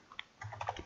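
A few quick keystrokes on a computer keyboard, soft and close, a brief isolated tap followed by a short burst of typing.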